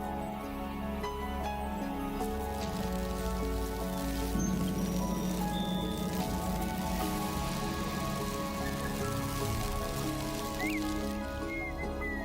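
Steady rain falls across open savanna in Brazil's Cerrado, a dense, continuous hiss of drops at moderate volume that persists unchanged throughout, with faint background tones layered in.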